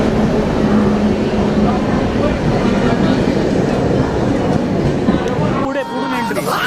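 A train stands idling at a station platform, giving off a steady low rumbling drone mixed with busy platform noise. People talk nearby over the hum, which shifts briefly near the end.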